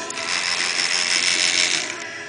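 A 9-volt relay salvaged from a solar light, driven by a 555 timer and decade counter circuit, chatters in a steady, dense run of rapid mechanical clicks for over two seconds, close and fairly loud with no talking.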